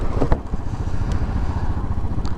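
A 2020 Royal Enfield 500 Trials motorcycle riding along a quiet road, its engine a steady low rumble with an occasional clatter, heard up close.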